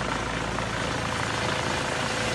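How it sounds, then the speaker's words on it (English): A life flight helicopter arrives near a surf break, its rotor roar steady, loud and dense throughout, with no voices. "the life flight helicopter was coming in"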